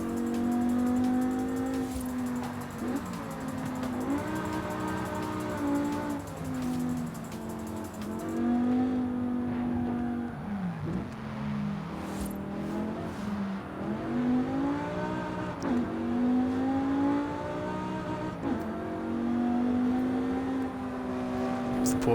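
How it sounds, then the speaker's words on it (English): A Porsche engine in a racing video game revs continuously, its tone climbing and dropping in repeated sweeps as the car accelerates and shifts, loud and close throughout. "It's the Porsche. I think it sounds nice."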